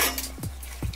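A spoon scrapes and clinks twice against a pot of meaty chickpea stew being stirred, close and clear over a low steady hum, with no talk.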